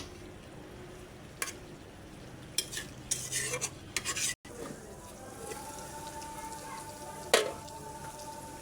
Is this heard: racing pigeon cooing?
no